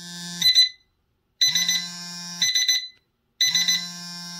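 Digital LED alarm clock with vibration, built for heavy sleepers, sounding its alarm: repeating electronic beeping bursts in a steady on-off rhythm, loud and close, with no talk.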